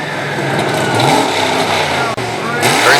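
A monster truck's engine revs hard and loud at a wheelie contest in a competition arena, with a roaring, rising drone throughout and an announcer talking over it.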